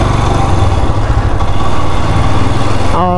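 Motorcycle engine running steadily while riding a winding mountain road in Sikkim, India, a loud close continuous drone with throttle body trouble, no talking.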